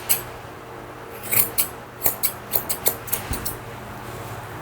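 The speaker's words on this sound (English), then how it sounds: "They like the top of her head fluffy, so I'm going to leave it longer and just scissor it round." Grooming scissors snip through a Maltese mix dog's fluffy head hair in a quick run of crisp, close cuts, with a brief pause after the first snip and no talking.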